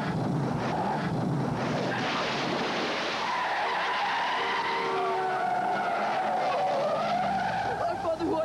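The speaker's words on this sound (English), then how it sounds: "he loses control of his grandfather's car" A car skids out of control during a teen-driving film scene, a long tire squeal sliding and rising over a rough engine and road rush, with excited voices shouting over the commotion.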